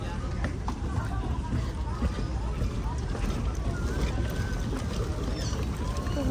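Busy harbor ambience at a boat port in El Nido, Palawan: a steady rumble of boats and water, with indistinct voices murmuring in the background.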